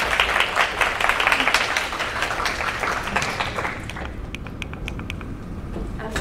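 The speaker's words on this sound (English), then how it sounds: "let's give a huge round of applause for Chin Hwee" An audience at a data-science talk on parallel processing breaks into sustained applause, dense clapping that stays strong for several seconds and then thins toward a few scattered claps.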